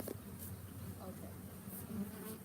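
Honeybees buzz steadily around an open hive that is being smoked, a close, continuous insect drone that swells and fades slightly as bees fly past.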